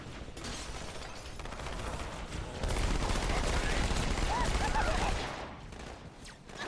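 Battle rifle gunfire in Halo Combat Evolved: rapid bursts of shots, growing louder and denser in the middle before easing off, with a voice talking faintly alongside.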